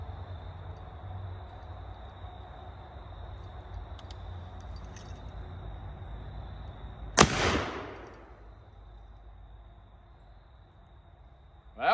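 A single loud gunshot from a reproduction 1857 Smith Carbine cracks out over a quiet outdoor background hum, with a short decaying echo afterward.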